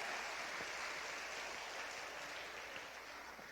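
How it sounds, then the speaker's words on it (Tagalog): A church congregation claps together during a Filipino sermon, a steady dense wash of applause that carries on evenly throughout without any talk. "Pumalakpak naman tayo kay Lord."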